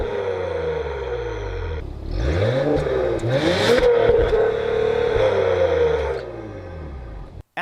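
A 2022 Acura TLX Type S in sport mode idles with a deep exhaust burble, then blips into several loud rising and falling revs before settling back and cutting off, heard up close with no talking.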